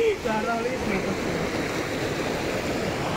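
Kandalgaon waterfall carrying plenty of water: a steady, dense rush of falling water fills the whole stretch, with a brief voice near the start.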